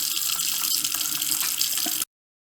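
Water rushing steadily from a water heater drain, a constant close hiss and splash that stops abruptly.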